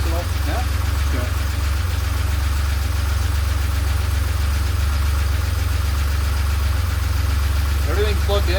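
A DeLorean engine idles steadily right after starting, with a low, even rumble throughout and faint voices talking over it.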